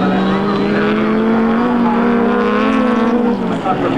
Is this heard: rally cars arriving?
yes